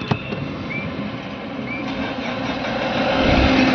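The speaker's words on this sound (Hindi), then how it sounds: "अभी गाड़ी स्टार्ट नहीं हुई है, तो वापस से सेल्फ लगाते हैं।" A Tata Safari Dicor 2.2 diesel with a starting fault, DTC P0340, cranks on its starter and catches, its steady churning engine noise building louder toward the end, close and without talk.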